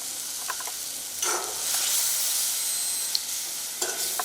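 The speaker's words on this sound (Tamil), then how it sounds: "இப்போ தேங்காய் பால் விட்டுக்கிறோம்." Coconut milk poured into a pan of frying vegetables and idiyappam sizzles with a steady hiss, broken by intermittent scrapes of stirring, close and loud with no talk.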